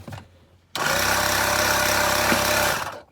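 A small portable air compressor kicks on abruptly and runs with a steady, loud, close mechanical buzzing drone for a couple of seconds before shutting off.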